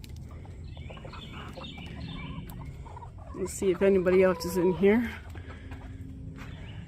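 A Rhode Island Red rooster among chickens in a coop gives a short, harmonic crow-like call about midway, with a person talking nearby before and after it.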